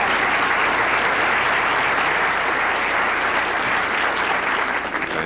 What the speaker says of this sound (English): Fans here applauding every shot.